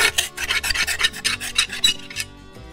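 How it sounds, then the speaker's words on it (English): Putty knife scraping buildup off lawn mower blades, about a dozen rapid, loud rasping strokes in a steady rhythm, close up with no talking. "take the putty knife, scrape any buildup off the blades"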